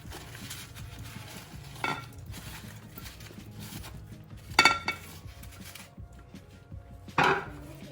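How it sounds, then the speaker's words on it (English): A few clattering knocks of fried cauliflower and potatoes dropping into a pan, with scattered clinks of utensils between them against a low background hum. "I am going to add the fried cauliflower. And the fried potatoes."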